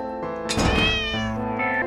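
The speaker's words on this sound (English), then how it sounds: "I think we heard the kitty." A cat meows in the horror video game The Cat Lady, one clear drawn-out cry rising over steady game music, close and fairly loud.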